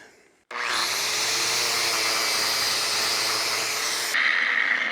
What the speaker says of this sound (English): We got a 7-inch angle grinder.